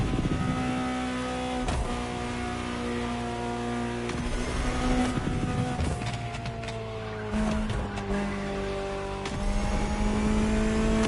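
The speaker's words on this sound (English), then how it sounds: "Just listen to the car you're driving." A Ferrari engine in the racing video game The Crew Motorfest revs and shifts repeatedly, its pitch climbing and dropping through several gear changes with a loud, close, steady roar.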